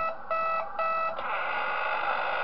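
Alarm from the video game Five Nights at Wario's, a loud electronic alarm-clock tone pulsing in repeated bursts, then settling into a continuous harsh ringing.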